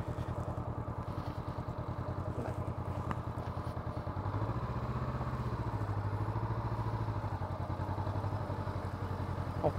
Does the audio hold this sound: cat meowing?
no